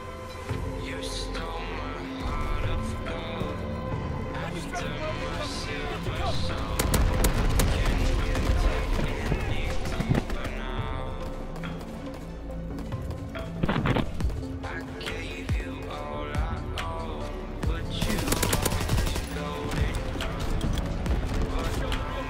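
Sten submachine gun fire in Call of Duty WW2 rattles in dense, close bursts amid other gunfire and explosions, with a voice talking over much of the action.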